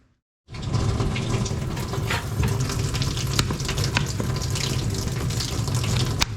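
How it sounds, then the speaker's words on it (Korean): Steady loud sizzling and crackling of breaded pork cutlets frying in hot oil, continuous and close, with a few faint clinks and taps and no talking. "돈가스도 좀 튀기고 있습니다"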